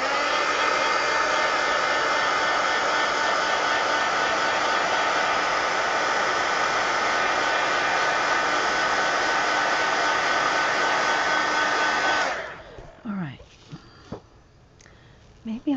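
A hair dryer blows loud and steady up close for about twelve seconds, drying paint on a coloring page, then cuts off, leaving quiet with faint handling noises.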